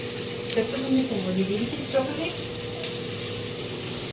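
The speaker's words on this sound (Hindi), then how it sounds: "अभी तो प्याज टमाटर भून रहे हैं" Onions and tomatoes sizzle in a pan while poha is cooked at home, a soft continuous frying hiss with faint stirring under some background chatter and noise.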